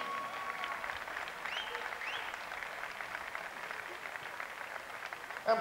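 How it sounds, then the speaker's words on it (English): Sustained applause from a crowd honoring the referees after a youth football tournament final, steady and moderately distant, filling the whole stretch without speech. "a big applause for the referees of this match"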